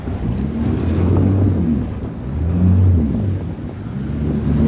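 Rough ocean water churned by strong wind at a shore base facility, a steady loud roar of surf and gusts buffeting the microphone with slow swells, no voices.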